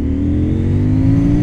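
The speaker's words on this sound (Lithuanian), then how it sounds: "galėsime pasižiūrėti, kaip šis motociklas akceleruoja" A CFMOTO 800NK motorcycle pulls hard at full throttle in second gear from about 30 km/h, its engine note loud and close, rising steadily in pitch as it revs, with no voices over it.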